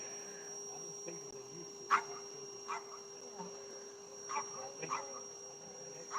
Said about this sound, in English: that's our dog barking in the background